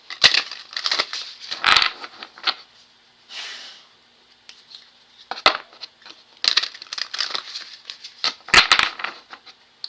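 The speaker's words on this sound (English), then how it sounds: "I'm going to shuffle again for y'all" Playing cards are shuffled, giving bursts of crisp riffling and flicking with short pauses and softer rustling between them.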